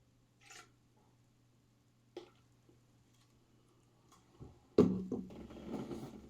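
A homebrewed stout is poured into a glass that still holds a little water: a few faint clicks and taps, then a sudden, close pouring gush that trails off.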